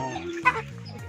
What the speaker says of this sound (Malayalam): 7000 രൂപൻ്റെ കോഴിയാണ് കേട്ടോ ഈ കാണുന്നത്